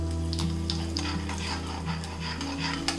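Urad dal and chana dal frying in hot oil with already-popping mustard seeds, a steady close sizzle with scattered small crackles and spoon clinks against the pan.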